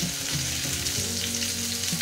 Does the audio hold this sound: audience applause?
no